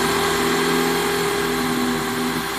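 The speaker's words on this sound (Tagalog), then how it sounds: "kita nyo, napakagaling na ating Predator impact drill. Walang kahirap-hirap magbutas." A Predator impact drill boring a pilot hole in plywood, a loud, steady motor drone close by that runs evenly throughout with no talking.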